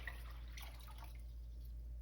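Homemade baby-safe laundry detergent liquid for sensitive skin poured into a container, a faint, soft trickle and dribble in the first second that fades into quiet room hiss.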